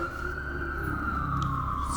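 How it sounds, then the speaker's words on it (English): A siren wails in the distance on a New York City street, its tone slowly gliding lower over steady city traffic rumble. "sirens. New York City."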